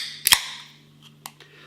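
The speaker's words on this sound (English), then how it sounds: "A little bit of smoke on the can opening." A beer can, a Berliner Weisse, is cracked open with a sharp double snap and hiss, followed by a few faint clicks, close and alone.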